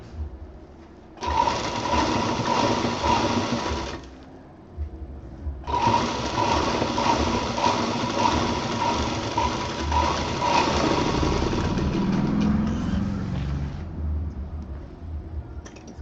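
Sewing machine stitching lace trim onto a festival cushion cover, the lace still on its roll, running in two steady bursts of about three and eight seconds with a short pause between and no talk.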